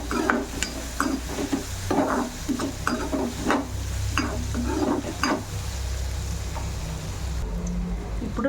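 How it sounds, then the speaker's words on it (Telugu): Onions with turmeric stirred and fried in a pan for a kasarkai curry, a continuous sizzle broken by regular scraping and clanking strokes of a spoon against the pan, close and alone. "ఇప్పుడు 1/2 టీ స్పూన్ పసుపు వేసుకొని ఆనియన్ని మిక్స్ చేసుకున్నాం."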